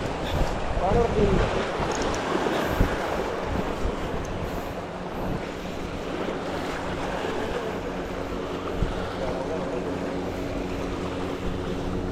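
Continuous rumbling wash of water and wind with a steady low engine-like drone as a boat nears on open water during threadfin salmon fishing.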